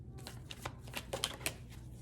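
Tarot cards handled and drawn from a deck in a quiet room: a brief run of soft shuffling flicks and slides, several crisp card snaps close by.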